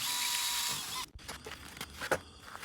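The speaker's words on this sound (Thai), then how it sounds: "เจาะให้ทะลุลงไปเลยนะคะ ทะลุถึงอีกฝั่งหนึ่ง" A power drill bores through awning canvas in a loud, steady whir for about one second. It cuts off abruptly and is followed by scattered light clicks and handling knocks.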